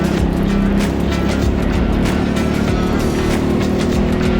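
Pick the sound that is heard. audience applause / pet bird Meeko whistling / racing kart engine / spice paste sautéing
racing kart engine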